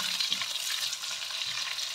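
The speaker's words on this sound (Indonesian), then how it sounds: "Nah, ini tumis sampai bumbunya benar-benar matang ya." Shallot, garlic, sliced chili, galangal and lime leaves stir-fried together in a pan, giving a steady close hiss of sizzling oil with faint scraping underneath.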